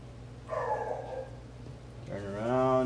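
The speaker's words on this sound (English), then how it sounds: "The dog barking." A dog barks twice in a garage where an engine's piston rings are being fitted, each bark fairly distant and rising out of the workshop background while someone talks.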